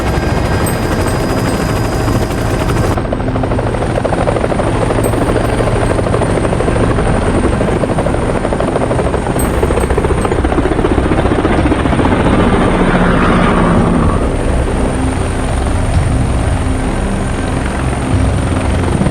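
Helicopter rotors thump steadily and loudly throughout, a continuous heavy drone with no talking.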